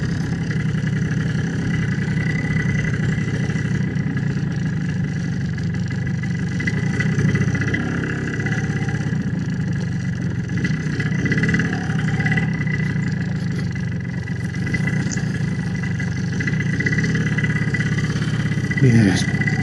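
An MZ TS250/1 two-stroke motorcycle ridden over shingle, a steady mid-level engine drone with wind noise, and someone talking over it at points.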